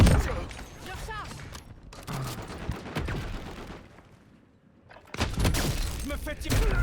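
Gunfire in the video game Call of Duty: Warzone comes as dense, crackling bursts of shots and impacts, with a brief lull in the middle before the firing resumes loudly. Game effects fill the mix.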